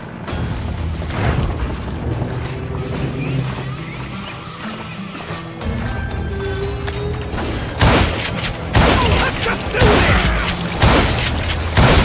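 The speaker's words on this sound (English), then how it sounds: "a fusillade of bullets come raining down from on high" A volley of gunfire in the Wild West shooter Call of Juarez Gunslinger, dense clattering shots layered over a rumbling game soundtrack, growing louder and harsher with sharp bursts in the final seconds.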